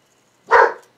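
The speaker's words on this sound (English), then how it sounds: "I hear a dog barking." A single loud, close dog bark from a neighbour's dog in a back yard, one sharp burst against an otherwise quiet room.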